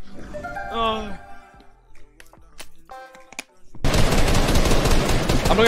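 Fortnite gunfire during a 3v3 Zone Wars tournament, loud rapid bursts crashing in toward the end after a stretch of excited players' voices and game effects.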